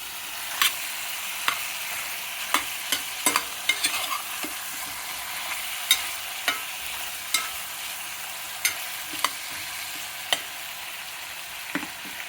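Mutton and bottle gourd frying in a pan, a soft continuous sizzle punctuated by sharp, evenly spaced clicks of a spoon stirring against the pan, close up and without speech.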